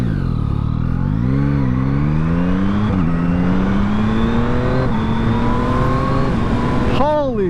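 A Yamaha MT-09 SP motorcycle accelerates hard, its engine note climbing through a series of quick-shifter upshifts without the clutch, each shift dropping the pitch briefly before it rises again, loud and close.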